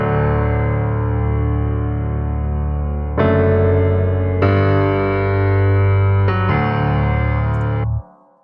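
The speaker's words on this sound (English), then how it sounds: "So I layered the studio grand piano and then the E piano" A stock Logic Pro studio grand piano layered with an electric piano and a bass plays sustained chords, with several chord changes before ending, rich and loud without any voices.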